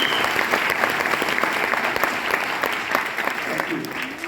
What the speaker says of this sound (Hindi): एक बार जोरदार तालियां सभी मेहमानों के लिए